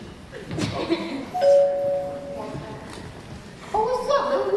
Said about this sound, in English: I heard the bell ring, right?